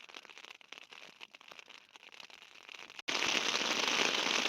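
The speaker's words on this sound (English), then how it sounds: "As you can hear, I've been woken up by rain." Rain falling on an OEX Rakoon 2 hiking tent on Dartmoor: a soft, steady patter of drops on the fabric for about three seconds, then a sudden jump to a loud, dense, hissing downpour.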